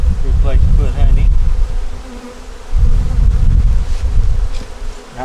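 Honey bees hum loudly and steadily around an open hive during a hive inspection, with the buzzing close and swelling in two long waves.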